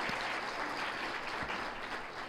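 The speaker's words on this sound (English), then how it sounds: "Round of applause for that." Conference attendees at a franchise technology event applaud sponsors with a soft, continuous wash of clapping heard from a distance, level and brief over a couple of seconds.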